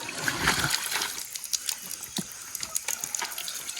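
Hot water poured out for coffee, a steady splashing trickle into a cup or container, fairly close and continuous with small spatters throughout.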